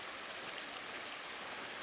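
Small creek called Anderson branch in Big South Fork, a steady, even rush of flowing water with no breaks, soft and continuous like a nearby babbling stream.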